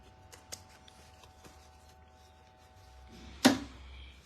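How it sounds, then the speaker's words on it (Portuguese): Scissors cut off the excess zipper on a fabric wallet: small faint ticks and handling noises, then one sharp, close snip near the end. "Vou vir aqui e corto o excesso do zíper."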